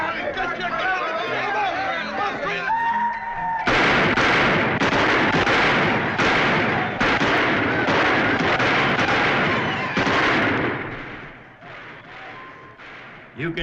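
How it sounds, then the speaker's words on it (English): Gunfire in a frontier-town street during a Wild West birthday celebration, a rapid run of loud, sharp cracks close together, loud and steady for about ten seconds before thinning out, with voices chattering underneath. "You gonna do anything about those guns out there?"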